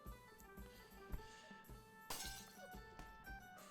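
Glasses and drinks smashing in a tavern brawl, several sharp shattering crashes and clinks spread across the moment, the loudest burst near the middle, over a busy low rumble of commotion.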